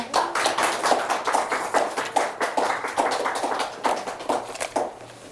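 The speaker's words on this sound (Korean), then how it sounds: "다시 한번 박수 부탁드립니다" Audience applause at a policy forum in Goyang following a presentation, a dense burst of many hands clapping close by, steady and fairly loud before tapering off near the end.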